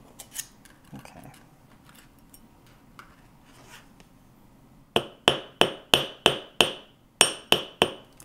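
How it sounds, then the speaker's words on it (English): Sterling silver wire ring being hammered while it is prepared for soldering, heard as a run of about a dozen sharp, close metallic taps in a steady rhythm after some quieter scattered handling noise. "Hammer right there so we know where to solder."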